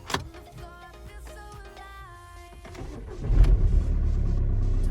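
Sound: Volkswagen Golf engine cold start

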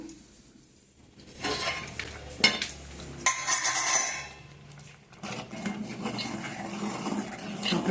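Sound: stirring millet sankati in a pot

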